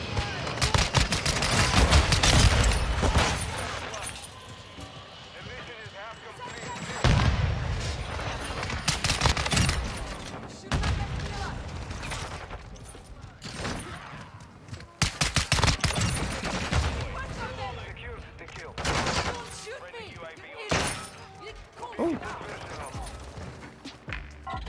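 Pistol shots ring out in a video game, irregular clusters of sharp cracks mixed with other game effects, loud and near, while a person talks over parts of the action.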